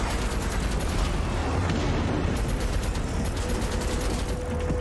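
Gunfire in the video game Rage 2, a dense, loud barrage of rapid shots and booms layered over a constant roar, with no pause.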